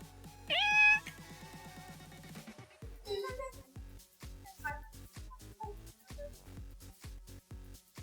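A big cat meows loudly and clearly at close range near the start, with a few softer sounds and low background noise afterward.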